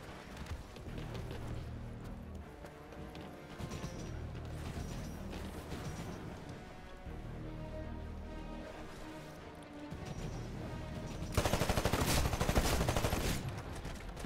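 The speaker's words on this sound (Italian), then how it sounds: "A colpi di shotgun qua, guardate" Shotgun gunfire in the shooter video game Titanfall, dense overlapping blasts under game music and effects, growing louder and harsher near the end.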